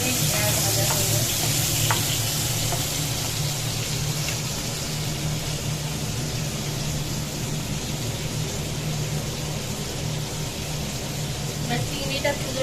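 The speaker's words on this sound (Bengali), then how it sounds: "এবার চিংড়ি কটা দিয়ে দেবো, দিয়ে হালকা আমাদের ভেজে নেবো 30-40 সেকেন্ড।" Prawns frying briefly in a hot pan, a loud continuous sizzle with constant stirring scrapes and a low steady hum underneath, close and unbroken throughout.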